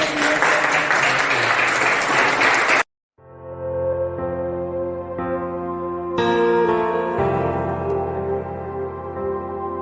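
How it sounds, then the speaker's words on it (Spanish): Loud, dense applause fills a graduation celebration for a new theology graduate for about three seconds, then cuts off abruptly and gives way to sustained instrumental music. "Muchas felicidades, aplausos"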